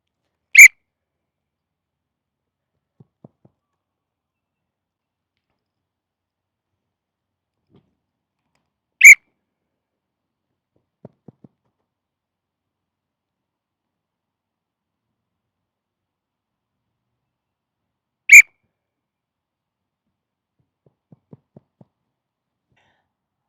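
Three sharp, loud whistle blasts from a coach during a football agility drill, spaced several seconds apart at irregular intervals, with faint footsteps or thuds from the players in between.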